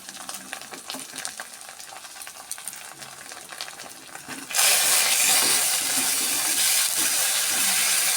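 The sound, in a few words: sautéing spices (chili and turmeric powder) in a pan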